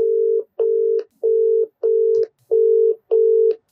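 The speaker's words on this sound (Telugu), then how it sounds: "రీతు చౌదరి అయితే ఫోన్ తీయట్లేదు." An outgoing phone call rings unanswered, repeating the same flat electronic ringback tone six times in an even on-off rhythm, loud and clear with nothing else heard.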